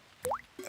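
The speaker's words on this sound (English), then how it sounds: "Daddy Pig is using a bucket to catch the drips." Cartoon water dripping into a bucket during a rainstorm: a single resonant plop with a rising pitch, then a softer splash, faint and alone.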